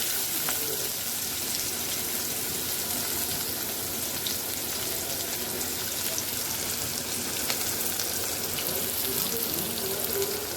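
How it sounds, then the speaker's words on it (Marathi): Onion sautéing in a pan with curry leaves and ginger, a steady close sizzle and crackle that runs unbroken throughout, with no talk. "कांदाही व्यवस्थित परतून झाला"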